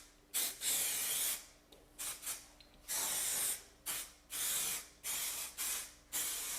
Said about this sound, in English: before you spray in the mold release